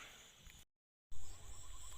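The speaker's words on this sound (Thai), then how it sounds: "เจอจิ้งหรีดแล้วนะครับ" Crickets chirp outdoors at night in a continuous high trilling, close and moderately loud, cut by a brief total silence partway through.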